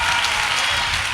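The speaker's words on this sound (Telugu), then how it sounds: "చప్పట్లు కొట్టండి గట్టిగా" A church congregation at an all-night Telugu worship service applauds loudly in dense, continuous clapping that stays strong and even for the whole short stretch.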